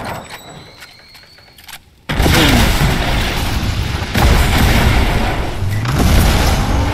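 Heavy gunfire and explosive booms fill a sniper shooter video game, starting abruptly after a quiet stretch and staying loud and dense with repeated blasts, with no talk over it.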